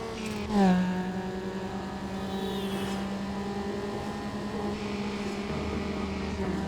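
Passing traffic cars in the Need for Speed Underground racing game, engines droning steadily with a sharp pitch drop as one whooshes past early on, then sustained tonal engine hum and rising whines throughout, with no talk.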